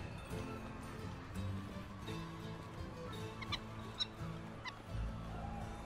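A bird honks repeatedly in the Ruined King: A League of Legends Story video game, goose-like calls over a steady ambient game backdrop with low musical tones, moderately loud and without speech.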